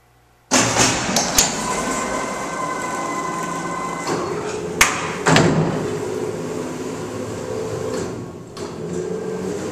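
A Schindler freight elevator in Westbury, New York runs steadily upward with a loud continuous rumbling drone, sharp clunks and rattles partway through, and a constant hum from the car.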